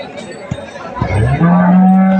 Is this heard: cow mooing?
yes